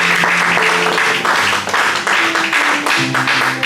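A church congregation claps and cheers loudly and continuously for Jesus during a worship service, with a broad wash of applause and a few sustained musical tones underneath.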